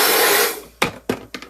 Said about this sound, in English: using the power of air, it crushed that thing really fast and very smooth